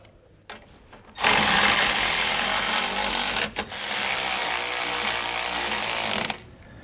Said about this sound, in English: we're going to go ahead and tighten all of these down with our socket wrench